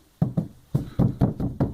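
Knuckles knock on a dresser's thin wooden back panel, which is not nailed at its center, hollow and close: a quick pair, a pause, then a steady run of about six raps.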